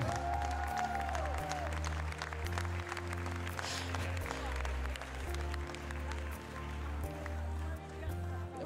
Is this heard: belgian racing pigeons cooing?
no